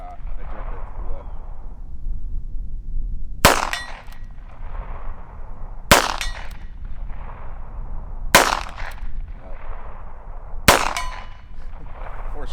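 Four sharp, loud gunshots from a Heritage Barkeep revolver fired outdoors in light wind, spaced a few seconds apart, each with a short decaying crack over steady background noise.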